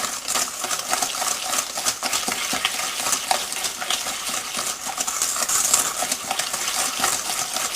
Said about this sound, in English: just use the whisk to the butter and the cocoa